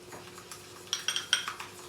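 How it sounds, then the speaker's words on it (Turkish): A brush or spoon mixes hair dye with Igora developer in a bowl, giving a few quick, faint clinks and scrapes against the bowl close by, with no talking. "Şimdi ben bunu şuradaki şu Igora'yı da alacağım. Böyle karıştırıyorum."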